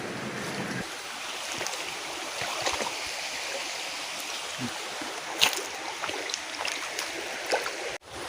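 River water rushes steadily with broadband hiss and small splashes, close and continuous, with a brief sharper splash midway.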